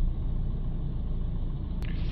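A car rolls slowly while its tyres are read by an Autel MK900BT diagnostic scan tool, giving a steady low rumble of engine and road noise close by, continuous and even, with a brief click near the end.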